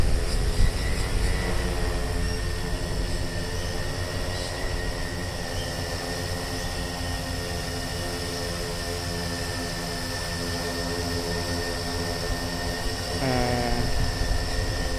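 A homebuilt Pixhawk-controlled camera drone lifting off outdoors in light wind, motors holding a steady, loud multi-tone whine with a rising pitch sweep near the end.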